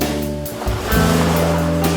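Sea waves wash over a sandy shore in a steady surf rush, while a tonal hum and a short dip break the sound partway through.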